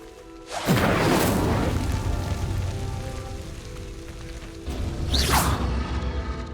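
An Incendio fire spell in Hogwarts Legacy roars up with a loud whoosh and rumbling low boom as a pyre sinks, holding a steady crackling rush before a second burst of flame near the end.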